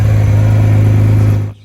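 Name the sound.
1985 Ferrari Testarossa flat 12 engine revving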